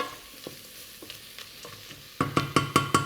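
Chili being stirred in a hot wok, with a soft sizzle and light scattered taps that turn into a quick run of loud, rhythmic metal scrapes and clanks near the end, close and without talk.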